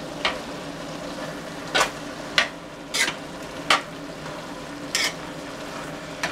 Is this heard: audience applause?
no